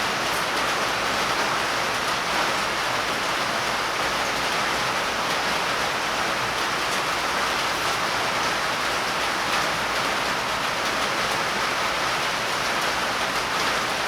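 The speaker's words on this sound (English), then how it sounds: "Now it's raining again, so that's no good." Rain falls steadily and evenly for the whole stretch, a constant close hiss of drops on surfaces with no voices over it.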